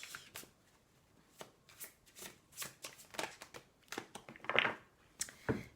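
Tarot cards being shuffled by hand: quiet, crisp riffling and slapping bursts in an irregular rhythm, close up, with no talking.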